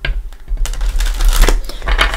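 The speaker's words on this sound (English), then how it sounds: "let's give Mother Mary a couple shuffles." A deck of Mother Mary oracle cards being shuffled by hand, a quiet start followed by close, crisp riffling and flapping bursts, with no talking over it.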